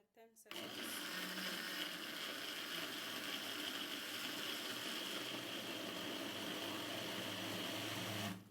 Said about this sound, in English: Then I'll blend it up for like 10 seconds.